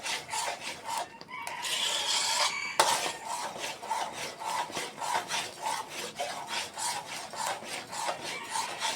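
Homemade coarse, unblended bean filling for a Thai sweet is stirred in a pan, making a steady rhythmic rasp of spoon scraping through thick paste, close and continuous with regular strokes.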